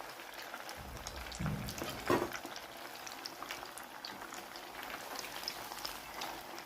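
Pieces frying in hot oil kept on medium heat, a faint continuous bubbling crackle close by with one brief louder clatter partway through.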